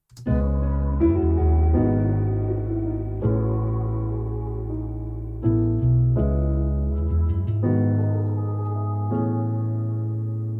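A deep, sustained bass line plays a slow sequence of long notes that change every second or two, with brighter tones layered above.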